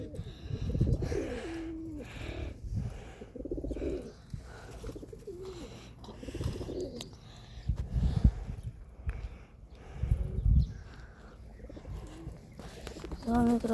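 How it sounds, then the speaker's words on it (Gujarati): A flock of pigeons kept for flying coos repeatedly in low, throaty bursts, near and fairly steady, broken by pauses and a few sharper noises over roughly fourteen seconds. "અહીંયા બધા આપણા કબૂતરા છે"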